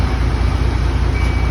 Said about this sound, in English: Now I'm going to safely turn my truck on.